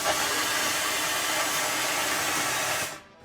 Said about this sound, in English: At this point, you can actually turn your air on and our blasting gun,